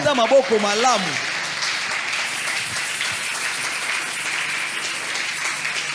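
A church congregation applauding during a service, a steady crowd of clapping after a short sung or spoken phrase, sustained and fairly even throughout.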